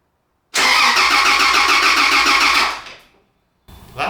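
A Toyota Land Cruiser engine, freshly rebuilt, cranks over loudly on the starter with a steady rhythmic churn for about two seconds, then cuts off. A brief burst of engine noise returns at the end.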